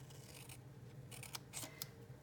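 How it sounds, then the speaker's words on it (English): A few quick scissor snips cut paper along score lines while making a mini milk carton craft, short crisp bursts clustered near the end over a quiet, faint background. "right up to that first score line, we're gonna give it a snip"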